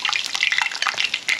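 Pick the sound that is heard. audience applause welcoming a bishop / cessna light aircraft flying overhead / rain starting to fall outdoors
rain starting to fall outdoors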